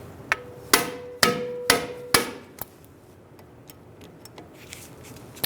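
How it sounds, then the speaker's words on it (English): A hand impact driver is struck by a hammer to loosen brake rotor screws on a 2012-2017 Hyundai Accent at a workbench: about five sharp, ringing metal blows at a steady pace, followed by lighter taps and clicks. "I'm going to use an impact driver to loosen up our rotor screws."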